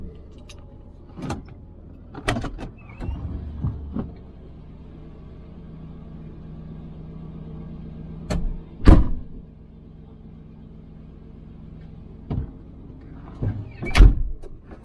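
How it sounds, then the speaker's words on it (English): Clunks and rattles of the sliding door on a 26-year-old Chevy van being moved and shut, with sharp thuds separated by quiet stretches over a low idling rumble. "No, apparently I won't shut the door."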